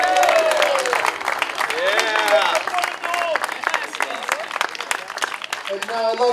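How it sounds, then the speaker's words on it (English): Wedding reception guests applaud in a hall, clapping mixed with cheers, whoops and raised voices for several seconds, with music or talk rising near the end. "how about a big round of applause?"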